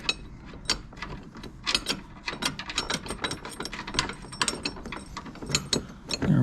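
A hand ratchet clicks steadily while tightening a bolt during assembly of a Lumberpro HD36V2 portable sawmill, close and fairly loud, with quick bursts of pawl clicks in an irregular rhythm and no talking.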